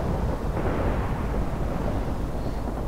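A thunderstorm rumbles in the video game Minecraft, a dense, steady low roar of thunder and rain filling the whole stretch without pause.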